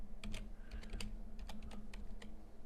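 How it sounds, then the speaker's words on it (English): A password is typed on a computer keyboard in a short run of separate, light key clicks. The rhythm is uneven, the taps are close and fairly quiet, and no one speaks. "I'm going to type in a password and then confirm the password."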